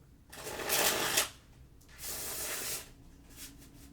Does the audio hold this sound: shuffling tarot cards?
yes